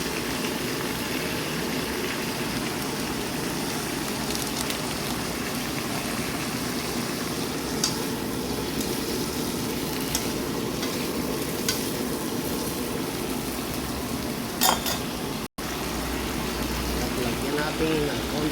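Steady sizzling of string beans frying in a pan, with occasional stirring clinks and a brief cut near the end.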